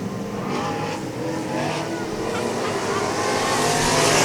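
Race cars lapping a speedway track during a race, one engine sounding rough, with a continuous loud roar of engines passing close by and an announcer talking over it.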